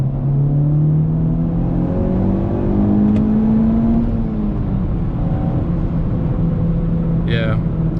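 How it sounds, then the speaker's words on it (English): A Honda Civic Type R FK8 hatchback revs in place, its exhaust rising and falling in smooth swells close by, with a steady engine hum between pulls and a brief voice near the end. "the exhaust note of this car, which I'll demonstrate for you guys real quick here."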